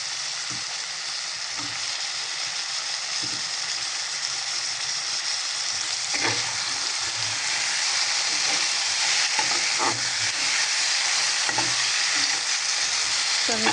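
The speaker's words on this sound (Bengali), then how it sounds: "টমেটোটা একটু নরম হয়ে আসা অবধি কষাবো।" Spice masala and tomatoes sautéing in a pan, with a dense, even sizzle throughout and a series of soft spatula knocks and stirring scrapes, close and steady with no talking.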